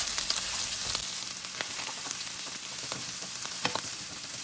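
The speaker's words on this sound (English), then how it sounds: "I'm going to add my onions here." Onions frying in a hot pan give off a continuous close sizzle, dense with crackles and occasional sharper pops, and no one speaks over it.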